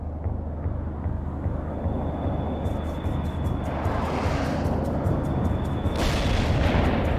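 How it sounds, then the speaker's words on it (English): Napalm strike in World in Conflict: a sustained rumbling roar of fiery explosions over heavy low-end noise, swelling louder midway with a sharp burst near the end and rapid crackling on top. "Napalm delivered on the coordinates."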